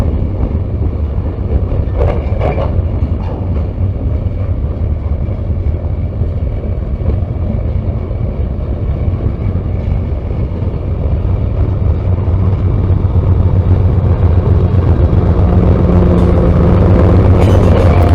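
A Norfolk Southern freight train with a distributed power locomotive passes close by in South Georgia, producing a loud, steady, low rumble that holds for the whole stretch with no break.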